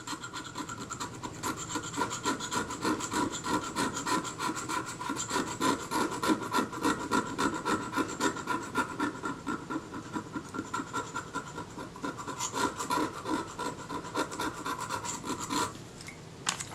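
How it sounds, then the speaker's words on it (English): A scalpel blade's back edge scrapes corrosion off a camera part in steady, close rasping strokes, a continuous rubbing texture through the whole stretch. "So I'm just using the back edge of that scalpel blade to scrape this off."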